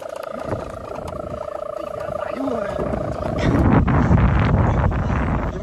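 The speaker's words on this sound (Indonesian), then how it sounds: "Anginnya kencang loh" Strong wind buffets an outdoor microphone during batik preparation work, a broad roaring rush that swells louder in the second half, while people talk nearby.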